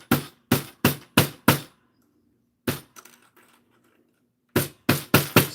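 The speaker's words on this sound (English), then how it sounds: "Hammer away." Sharp hammer strikes on a jewelry bracelet piece at a workbench, a quick run of five hard blows, a pause with faint rattling, then four more evenly spaced loud hits.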